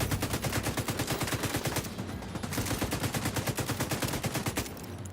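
Sustained light machine gun fire in The Division 2, a dense rapid stream of loud close shots running almost unbroken, with a brief easing near two seconds before the burst resumes.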